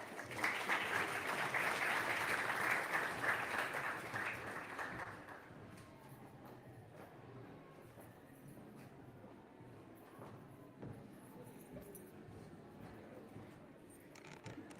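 Audience at an NAACP Greater Grand Rapids listening session applauds to welcome the CEO and founder of A Glimpse of Africa. The clapping is steady and fairly loud for about five seconds, then fades into quiet room noise.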